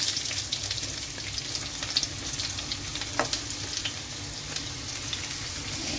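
Sliced onions fry in hot oil in a loud, even crackling sizzle that holds steadily throughout, with one brief tap of a utensil, and nobody speaks.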